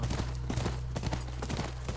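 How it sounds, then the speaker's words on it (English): Steady clip-clop of horse hooves in The Last of Us Part II, a rapid even rhythm over a constant low hum, close and clear. "That's the horse."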